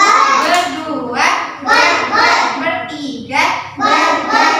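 A class of children claps in a counting chant, several rhythmic bursts of group clapping mixed with their chanting voices, loud and close.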